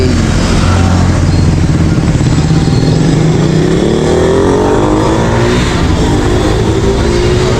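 A car engine revs loudly and continuously up close, its pitch climbing and sweeping upward as it accelerates, with a dense roar throughout.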